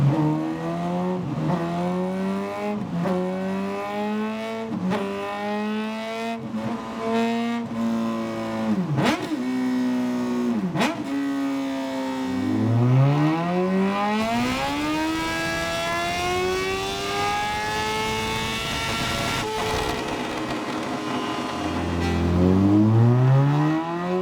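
Honda Hornet CB1000 motorcycle with a decatted exhaust, revved hard through a series of rising and falling blips, then long sweeping climbs to high revs, loud and close with no talking.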